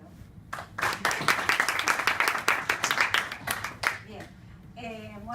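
A small audience at a law seminar claps for a few seconds in a loose, irregular patter that swells and then fades, and a voice begins speaking as the clapping ends.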